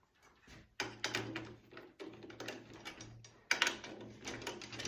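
Tension rods being tightened on an acoustic drum being converted to an electronic kit, close, faint metallic clicking and ratcheting in short bursts with brief gaps.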